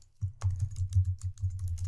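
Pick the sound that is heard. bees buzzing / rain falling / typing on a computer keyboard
typing on a computer keyboard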